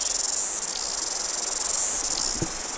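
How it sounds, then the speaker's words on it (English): Dense, continuous high-pitched buzzing of many cicadas in New Zealand, loud and steady throughout with slight swells in intensity. "Lots of cicadas."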